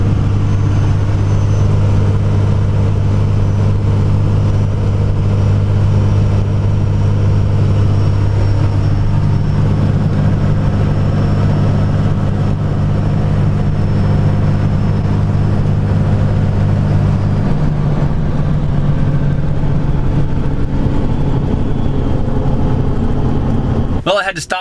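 A second-generation Cummins 24-valve diesel truck cruising down the road, its steady engine drone and road rumble continuous and loud throughout, with a voice talking over it.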